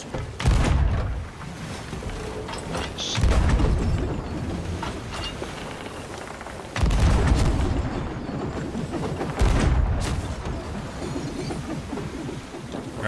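Cannon fire in Sea of Thieves: four heavy, booming blasts spaced a few seconds apart, each followed by a rumbling decay over constant ship and sea noise.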